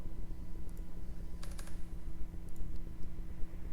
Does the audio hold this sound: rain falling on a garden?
no